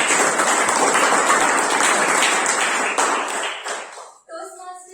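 A Toastmasters audience applauding dense and steady for about four seconds to welcome a speaker, then the clapping dies away as a voice begins speaking.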